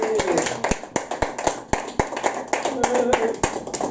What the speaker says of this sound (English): More applause, please, for Sue John